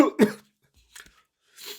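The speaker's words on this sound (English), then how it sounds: "Sorry, I've got a cough out." A couple of quick, close coughs followed by faint breathy sounds and another soft cough.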